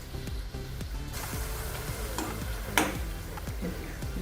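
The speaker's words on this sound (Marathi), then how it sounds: "तळून घ्यायचे." Tilori pastries deep-fry in oil over low to medium heat, giving a soft, steady bubbling hiss with repeated faint clicks and taps of a utensil and one brief sharper scrape.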